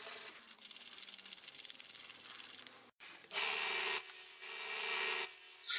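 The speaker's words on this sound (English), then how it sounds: "Now I'm just shaping the handle scales, and now I'm finished sanding them." Steady abrasive sanding of wooden knife handle scales, a continuous gritty rasp that stops briefly and resumes louder and brighter, like a belt sander working close by.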